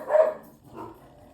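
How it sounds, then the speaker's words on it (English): A dog barks twice at close range, a louder bark followed by a softer second one after a short gap, with no talking over it. "Dogs."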